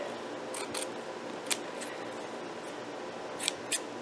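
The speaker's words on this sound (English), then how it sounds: "I'm cutting to the right side of it." Scissors snip through fabric for quilt blocks, a few short crisp cuts spaced apart across a quiet room, near and alone with no voices.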